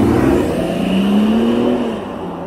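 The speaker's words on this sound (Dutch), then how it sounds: "even gas geven die handel" A car engine revs loudly as the driver accelerates, a strong close rising growl that climbs in pitch and then eases off, with no talking.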